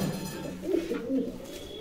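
Soft, low coos from white and black pigeons at a pigeon market in Bogura repeat a couple of times in a steady rhythm, close by, over a faint background hum with no talking.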